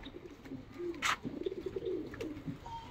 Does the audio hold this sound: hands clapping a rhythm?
no